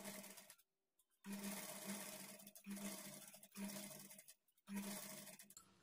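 A sewing machine runs in several bursts separated by brief pauses, stitching a blouse waistband strip at close range with a steady whirring hum.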